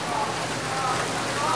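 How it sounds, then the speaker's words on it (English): Heavy rain and hail pour down in a thunderstorm in Brattleboro, a dense, unbroken hiss of drops striking surfaces close by, with no pauses and no clear voices. "We are like getting inundated and it is raining so hard."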